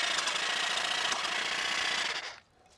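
A WorkProX 20V cordless hedge trimmer runs with a steady, loud, buzzing motor drone for about two seconds, then cuts off abruptly into near silence.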